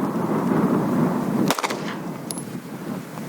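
A single sharp, loud pistol shot from a Glock 19 or XD9 fired outdoors in the desert, with a quick echo trailing away after steady wind-like background noise.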